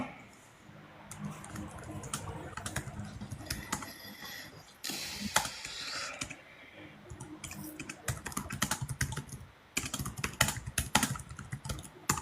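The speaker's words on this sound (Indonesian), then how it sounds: "Tapi crispy banget keyboardnya" Rapid, crisp laptop keyboard typing clatters in irregular bursts with short pauses, close and fairly quiet, over faint background noise.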